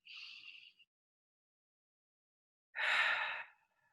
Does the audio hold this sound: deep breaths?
yes